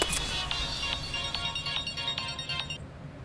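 A phone ringtone sounds for an incoming call, a repeating electronic melody of bright chiming notes pulsing steadily at moderate volume, with no talk over it.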